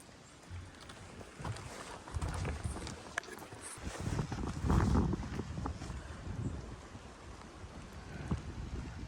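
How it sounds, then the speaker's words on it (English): Gusty early-morning wind buffets the microphone in uneven surges, with rustling and water-like movement outdoors and no speech. "It's a bit windy already."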